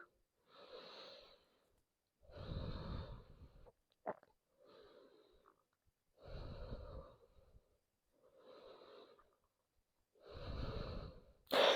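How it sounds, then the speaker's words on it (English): Ujjayi breathing through closed lips during a vinyasa yoga session: slow, audible, hissing inhales and exhales in a steady rhythm of about six breaths, close and alone in a quiet room. "Close your lips and breathe."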